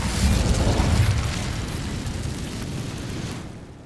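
Casting the Incendio fire spell in Hogwarts Legacy, while exploring old castle ruins, sets off a loud whooshing roar of flame that swells at once, then trails off into a fading rumble.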